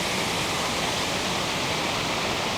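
Waterfall on the Humber River in Toronto, a steady, loud, broadband roar of rushing water, continuous and unbroken with no voices.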